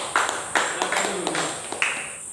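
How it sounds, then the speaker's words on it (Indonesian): A classroom of students claps in a short, scattered burst, several separate claps spread over a couple of seconds rather than sustained applause. "Berikan tepuk tangan dulu."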